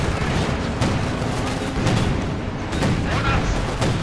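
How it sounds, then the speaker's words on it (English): Rocket artillery barrages in Company of Heroes 2, Soviet rockets answering German Panzerwerfer fire across an ice battlefield: a dense, continuous rumble of booms and launches with several sharper bursts rising out of it throughout. "Rockets going back from the Soviets"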